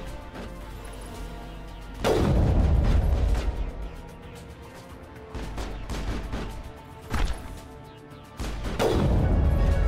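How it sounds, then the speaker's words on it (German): Rifle gunfire in a story-mode video game, three loud booming shots a few seconds apart, each with a long crashing tail, over steady game ambience and no talk. "Das kommt von dem Gewehr."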